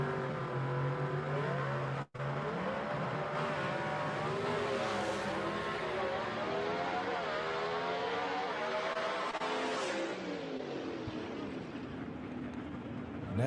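A gasser drag race car roars down the strip at Knoxville Dragway during a test and tune session, loud engine revving up through rising gear-change sweeps for several seconds, then the note drops away as the car fades.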